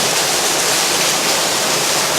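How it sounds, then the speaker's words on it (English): Water pours onto the top of the waterwheel at Nether Alderley Mill, filling its buckets with a loud, steady, dense hiss and splash that holds evenly throughout, close by and without voices. "water going on to the top wheel now, filling the bucket"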